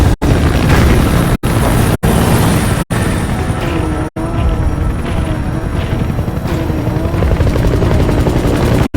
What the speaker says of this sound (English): Extraction of support helicopter.